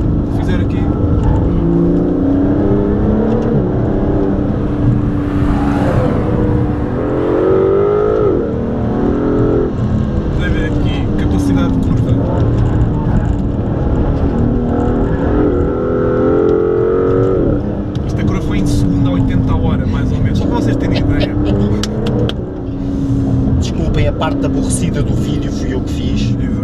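Aston Martin DB11 from 2017 with a 600 hp twin-turbo V12, engine running loud and steady throughout with rising and falling revs during driving, while someone talks over it.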